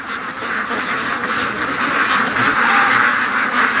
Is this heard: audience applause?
no